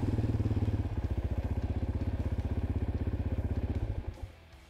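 A Coleman mini jeep runs at its top speed of about 22 mph, its small engine giving a loud, steady, rapidly pulsing putter that holds for about four seconds and then fades as it moves away.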